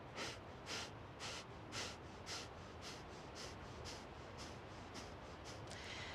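Sharp, short exhales of yoga pranayama breathing driven by the abdominal muscles, about a dozen forceful bursts in a steady quick rhythm, close and fairly loud with no talking.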